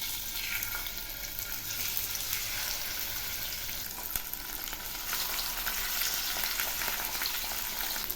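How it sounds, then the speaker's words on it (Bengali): Rohu fish pieces frying in hot mustard oil, a dense continuous crackling sizzle close by, with occasional louder pops and no talking. "তেল গরম হয়েছে। এবার আমি মাছগুলো ছেড়ে দিচ্ছি।"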